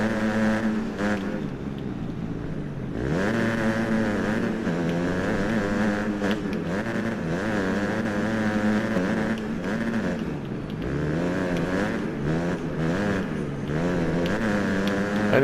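Dirt bike engines in the MXGP Pro racing game whine and rev continuously, pitch rising and falling with shifts and throttle changes, loud and close throughout with no talking.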